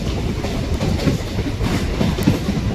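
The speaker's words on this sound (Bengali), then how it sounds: "আমাদের ট্রেন কিন্তু এখন প্রিন্সেপ ঘাট স্টেশন ঢুকছে।" A Kolkata Circular Rail local train rolls into Prinsep Ghat station beside the Ganges, heard from on board as a loud, steady rumble with faint rhythmic clattering of wheels over the rails.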